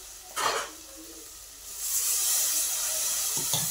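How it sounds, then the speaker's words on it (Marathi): Water from boiled green tamarind poured into a hot pan of spiced oil, a short splash near the start, then a loud steady hiss and sizzle building and holding through to the end. "हे हिरवी चिंच शिजवून जे पाणी काढलं होतं ना, ते पाणी टाकायचं आता"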